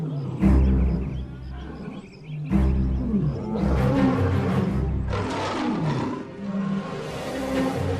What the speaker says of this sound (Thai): เสียงสัตว์ร้องโหยหวนอีกแล้วอ่ะ ต้องโดนราชสีกับเสือกัดอีกแน่ๆเลย